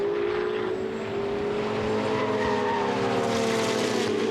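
A Ferrari Challenge race car brakes hard on the Valencia circuit, its engine note dropping as the tyres squeal and skid, a loud continuous roar lasting several seconds with no talking.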